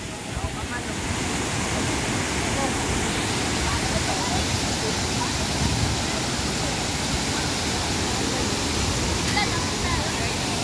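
Tinuy-an Falls waterfall roaring as a steady, dense, unbroken wash of rushing water, loud and close, holding constant the whole time.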